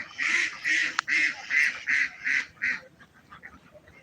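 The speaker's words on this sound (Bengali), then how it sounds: "এই যে আপনারা দেখছেন হাঁস" Ducks quack at a duck farm beside a wetland, with a close, loud series of about seven rhythmic nasal honks followed by fainter calls as the sequence trails off.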